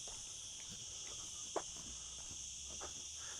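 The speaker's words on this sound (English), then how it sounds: "cicada flies going crazy" Cicadas outdoors in Torrevieja, Spain, keep up a loud, continuous high-pitched buzzing drone, with faint scattered clicks and rustles beneath it.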